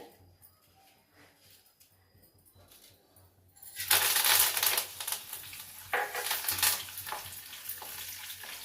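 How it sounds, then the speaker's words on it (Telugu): Mustard and other tempering seeds hit hot oil for pulihora, rice in tamarind sauce, after a quiet start, then burst into a loud, dense sizzle and crackle that keeps popping unevenly to the end. "ఇప్పుడు నూనె కాపుతుందండి ఇప్పుడు తాలింపు గింజలు వేస్తానండి"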